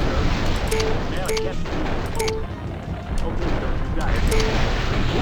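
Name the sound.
weapons fire in the video game MechCommander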